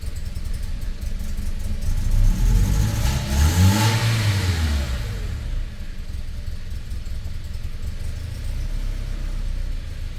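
A 2011 Toyota Tacoma 2.7L four-cylinder engine with reused injectors running with a slight misfire, revving up and settling back to a steady, slightly uneven idle close by, with no talking.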